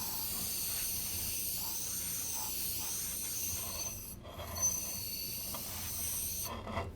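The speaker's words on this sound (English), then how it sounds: "I'm just going to lightly blow some compressed air on it, just to make sure that there's nothing stuck on there" Compressed air blown in a steady hiss over a small scale model car to clear dust, close and continuous with faint rubbing and handling noises beneath.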